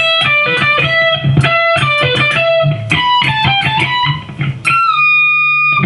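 Loud, bright electric guitar playing a fast lick of bending high notes with an effected tone, closing on a sustained chord.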